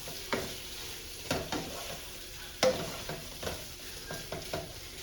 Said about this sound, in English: So try to flatten them all out in the pan. Flip them around in there a couple times